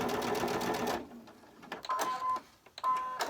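A sewing machine stitches a patch with batting onto a sweater, running in a loud continuous whir, stopping, then returning in short bursts with pauses between them, close by.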